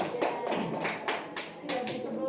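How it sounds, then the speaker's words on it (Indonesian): A school class claps hands together in a classroom at the end of a lesson, a short run of quick, fairly faint claps in a loose rhythm, with a few voices underneath. "Tepuk tangan untuk kalian semua."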